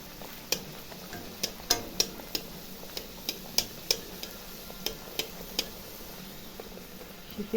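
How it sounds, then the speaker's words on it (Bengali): Luchi puffing in hot oil crackle with a steady fizz, broken by a dozen or so sharp pops and spatters at irregular intervals, close and fairly quiet, with no voices. "এখানে দেখো আমার কয়েকটা লুচি ভাজা হয়ে গেছে আবারও দেখো ভেজে নিচ্ছি"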